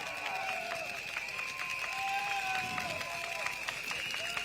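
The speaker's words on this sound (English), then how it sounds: "Please give a round of applause, Mr. Gabriel Lam." A crowd applauds and cheers at an outdoor political rally on a field in Sembawang as a candidate is introduced, steady clapping mixed with crowd noise and voices throughout.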